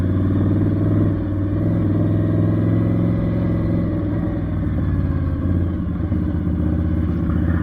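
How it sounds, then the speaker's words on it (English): Moto Guzzi cafe racer motorcycle rumbling past, a steady loud engine drone with clattering texture that holds for several seconds, heard from a ride in hot weather. "Oh, look at that nice cafe racer. Moto Gucci, if I'm not mistaken."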